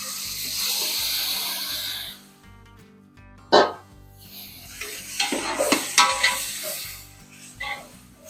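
Masala dropped into hot reddened oil for a large pot of chicken biryani: a loud, hissing sizzle at first, then a quieter stretch broken by sharp clatters and bursts of frying and stirring.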